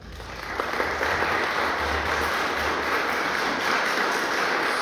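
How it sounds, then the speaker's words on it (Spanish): Audience applause at a book presentation event in Puebla, a dense, steady clapping that builds in the first second and then holds loud and even to the end. "Por lo cual pido un fuerte aplauso, por favor."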